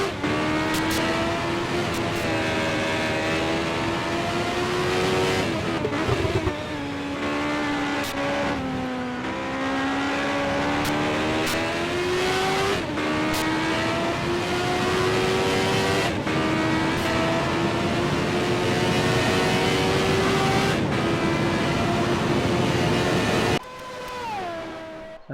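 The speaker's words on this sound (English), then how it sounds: "there will be a lot of full throttle around here" CART race cars at Road America in 1988 scream at full throttle, one engine held loud and close with a high-pitched whine that rises through the gears, breaks briefly at each shift and drops toward the end.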